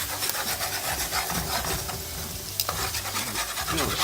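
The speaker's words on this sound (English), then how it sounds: "The sugar kind of bubbled up there in the middle, so I'm just going to make sure they mix in" Sugar and stock bubbling in a pot while a spoon stirs continuously, a dense close sizzle and scraping with one sharper knock partway through.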